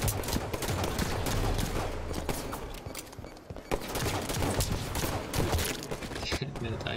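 Scattered gunfire in the shooter Halo 5 on PC, a busy mix of sharp shots and mechanical clatter at moderate volume, with some talking mixed in.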